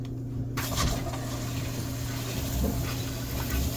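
Water rushes steadily through a hose line toward a set of UV, carbon and sediment filters at an off-grid RV trailer setup after a valve is opened, a constant close hiss and gurgle with no talk.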